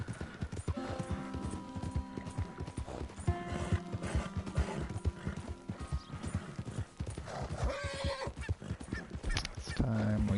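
Horse hooves clip-clopping steadily in a video game, with whinnies and neighs breaking through and a speaking voice over the top, ending with a honking animal call.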